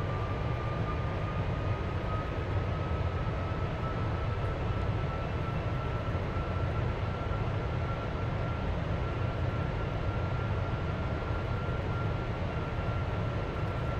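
A Boeing 747-400 lands with flaps fully extended during an autoland flare in Flight Simulator X, a steady, loud rumble of engines and airflow that holds constant throughout, with no voices.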